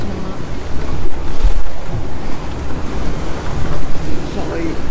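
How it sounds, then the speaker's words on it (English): Strong wind of 15 to 17 knots roars over a sailing boat at sea on a rough ocean passage, with loud, continuous gusting and buffeting against the microphone over the wash of waves. "Wind's picked up a lot."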